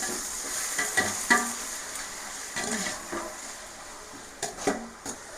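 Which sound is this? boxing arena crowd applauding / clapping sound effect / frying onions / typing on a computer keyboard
frying onions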